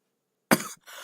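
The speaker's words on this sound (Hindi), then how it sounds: "मुझे खांसी आ रही है तो मैं खांसी लगातार कर दे रहा हूँ" A single sharp, close cough bursts out after half a second of silence, followed by a brief quieter exhale or second rasp.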